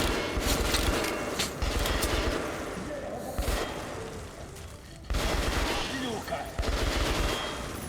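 Heavy gunfire in the shooter game Metro Last Light Redux: loud automatic bursts and rapid volleys, pausing briefly and then resuming, continuing through most of the stretch.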